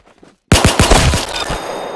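Loud rapid gunfire from the Roblox game Arsenal bursts in suddenly after a short near-silence, sharp shots rattling off in quick succession and then trailing into a dense, ringing roar.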